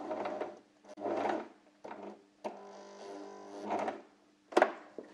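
A sewing machine stitching an oval ironing-pad cushion, several short whirring bursts of needle motion separated by pauses, then one longer run and a sharp clack at the end, close and fairly quiet.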